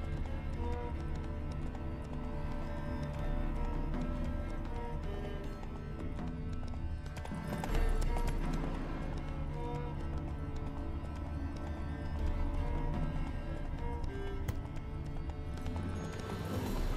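Horse hooves clip-clop steadily at a walking pace in the Witcher 3 video game, a heavily laden horse moving outdoors under a dense bed of game music and ambience that continues throughout.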